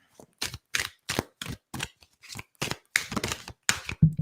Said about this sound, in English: Let me just do a little more light shuffling here.